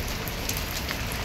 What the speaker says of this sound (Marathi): भयानक पाऊस आहे, भयानक.